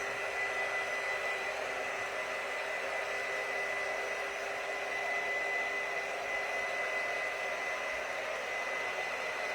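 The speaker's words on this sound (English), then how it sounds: "we're gonna go ahead and use the heat gun really quickly" A heat gun blows steadily for about ten seconds to dry chalk paste paint on wood, giving an even, continuous hissing whoosh at moderate level with no talking.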